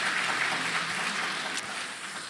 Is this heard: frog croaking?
no